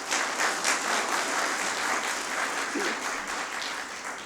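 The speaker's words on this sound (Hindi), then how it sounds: "हम सब ताली थोड़ा ज़ोर से बजाएं" Steady, sustained applause from a crowd, dense clapping continuing evenly for a few seconds with no voices standing out.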